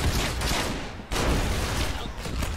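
Gunfire in the Roblox shooter Arsenal crackles as dense, rapid, loud bursts that fill the whole moment, one volley briefly dipping before the shooting picks straight back up.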